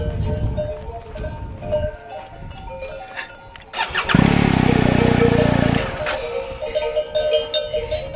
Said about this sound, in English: Sean, rev the engine.